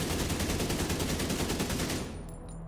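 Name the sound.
AK rifle gunfire in video game The Division 2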